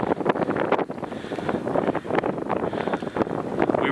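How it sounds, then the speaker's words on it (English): Strong, brutally cold wind buffeting across a frozen lake in a blizzard, loud ragged gusts roaring against the microphone in continuous rough bursts for about four seconds, with no voices. "It's been a slow day, just brutally windy, brutally cold."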